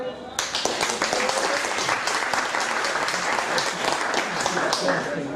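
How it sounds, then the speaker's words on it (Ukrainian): Enthusiastic applause from a comedy club audience during a stand-up monologue, bursting in after a brief lead-in and holding as a dense, even wash of clapping to the end. "під ваші бурні аплодисменти"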